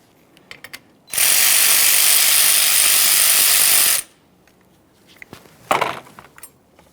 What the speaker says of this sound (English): there's a 10mm mounting nut up along the top here. We're going to start loosening these